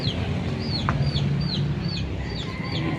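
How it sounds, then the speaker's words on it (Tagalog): Chickens cluck repeatedly in short bursts, a flock scattered nearby over a constant outdoor background. "Kalat yung mga manok dito."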